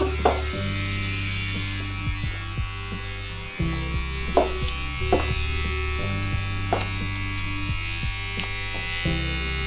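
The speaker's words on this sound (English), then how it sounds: "We're going to use the trimmers now." Electric hair trimmers tidying the neckline during a men's V-cut at a barber's; a continuous close buzz that shifts in pitch as the clippers move, with a few light clicks and taps.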